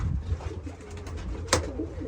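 Saddleback racing pigeons coo softly and close by in a quiet setting, a low murmuring call that swells briefly with one sharper burst partway through.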